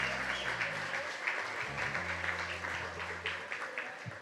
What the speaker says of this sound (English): a round of applause for the band.